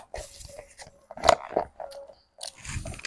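A LOL Surprise egg wrapper is torn and crinkled open by hand, close and fairly faint, with scattered rustles, scrapes and a sharper crackle in the middle, separated by short pauses.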